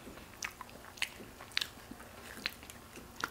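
KFC fried chicken with its crunchy coating is bitten and chewed up close, making a series of crisp crunches and soft mouth sounds spaced irregularly over quiet, with no talk.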